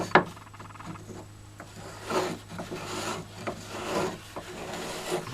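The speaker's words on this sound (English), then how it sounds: "Sand that down, bevel it pretty nice" A wooden cap about 3 3/4 inches across for a mini pony keg bank is sanded and bevelled by hand, giving soft rasping rubs in irregular strokes, fairly close and moderate in level, with no voices.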